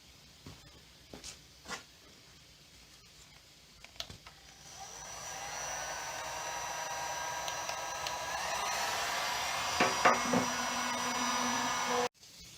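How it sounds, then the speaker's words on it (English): Heat gun blowing on a metal fuel tank: a few faint knocks and clicks at first, then a steady close airy whine with a motor hum that grows louder and holds before stopping abruptly. "I'm going to give it another blow with the heat gun."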